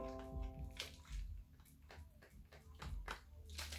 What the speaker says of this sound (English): And then take your spray bottle and spray.